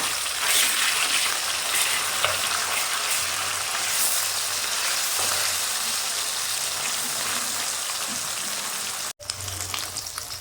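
Flipped bata fish keep frying in hot oil with a constant, rain-like crackle close by, broken by a brief dropout near the end before the sizzle resumes.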